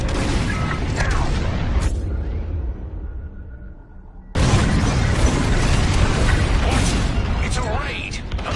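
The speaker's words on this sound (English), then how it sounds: "On my mark, it's bombs away." Heavy, roaring explosions from bombs dropped during a space raid in the Star Wars Squadrons video game, loud and sustained, dropping briefly before another massive blast surges back, with voices calling out over the din.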